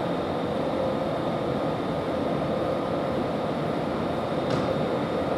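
Passenger train at Budapest Keleti station, a steady broadband rumble of rolling stock filling the hall throughout, loud and continuous with a faint high tone, no voices.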